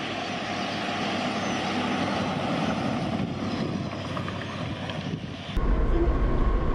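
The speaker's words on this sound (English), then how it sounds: "I didn't notice the transmission whining until we downshift." A 1939 Ford barn-find truck drives along with a steady, droning engine and drivetrain hum, its transmission whine blended into the road noise, which swells louder near the end.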